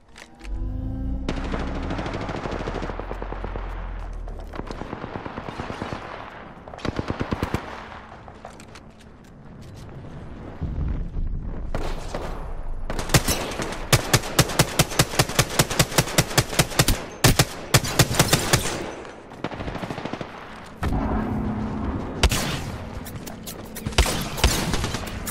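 Rapid machine-gun bursts and single gunshots ring out in Apex Legends, loud and close, with long stretches of fast rhythmic fire separated by short pauses.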